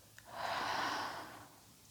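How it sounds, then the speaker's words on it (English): A single slow, breathy exhale out through the mouth during a yoga breathing exercise, soft and close, swelling then fading over about a second. "Exhale out the mouth."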